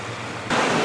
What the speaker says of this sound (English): These bloody ferries